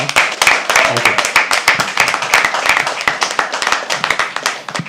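Audience at a poetry open mic clapping, a dense run of close hand claps that rises and then slowly thins, with a few voices underneath.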